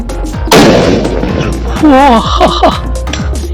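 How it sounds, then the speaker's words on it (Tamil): A sharp elephant-brand firecracker bang bursts out loudly, followed by crackling and echoing noise of its shattered casing flying while voices talk excitedly over it. "எப்படி வெடிக்குதுன்னு மட்டும் பார்க்கலாம்."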